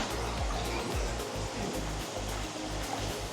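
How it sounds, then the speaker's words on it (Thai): A forest waterfall near an outdoor hot spring, its water reddened after rain, pours in a constant dense rush with low rumbling bumps close to the microphone. "นี่คือน้ำตกน้ำจะแดงเพราะว่าฝนตก"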